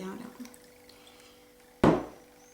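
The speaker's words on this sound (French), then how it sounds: "Je rajoute juste 2 gouttes" Drops of liquid added to wallpaper paste being mixed smooth, landing as one sudden, close wet plop that rings out briefly after a quiet stretch.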